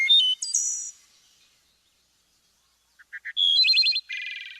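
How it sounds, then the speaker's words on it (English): A wood thrush sings two short, clear, flute-like phrases separated by a long pause. The second phrase starts with soft notes and ends in a buzzy trill, loud and close with no other sound. "So listen to the song again."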